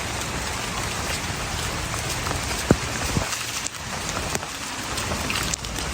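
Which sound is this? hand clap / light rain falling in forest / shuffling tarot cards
light rain falling in forest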